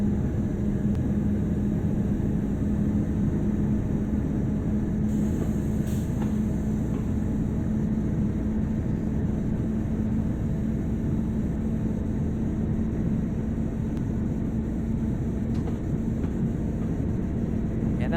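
A train running on the West Somerset Railway in the Train Sim World video game produces a continuous low rumble and hum, steady and unbroken, with no talking.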